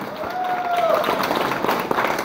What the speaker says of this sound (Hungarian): Még egy hatalmas tapsot szeretnék kérni nekik.